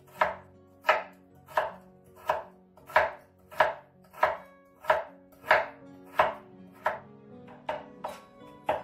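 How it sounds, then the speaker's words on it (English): A knife chops frozen vegetables finely on a board for Chinese New Year dumplings, with about fifteen sharp, even strokes in a steady rhythm, loud and close, with no voices. "because they're frozen, so it's easier to chop them finely"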